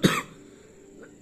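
A single sharp cough, close and loud, followed by quiet breathing and a faint throat sound.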